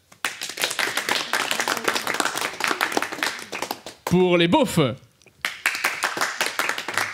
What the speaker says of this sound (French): Je vais demander quand même l'applaudimètre pour les Biquettes.